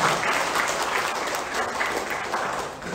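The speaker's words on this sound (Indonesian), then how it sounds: "Tepuk tangan yang meriah untuk materi kita hari ini." Enthusiastic audience applause at a calligraphy workshop, loud, continuous and full from start to finish.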